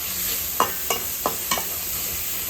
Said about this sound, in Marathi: आता या तेलावरती परतून घेऊया